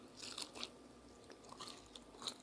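Crunchy twice-fried sweet and sour pork is bitten and chewed up close, giving a few sharp crisp crunches with quiet pauses between them.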